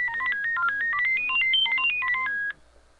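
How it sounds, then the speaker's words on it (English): A phone sounds a rapid series of short, clear beeping tones at varying pitches, steady and close for about two and a half seconds before cutting off abruptly into quiet. "my phone interrupted me."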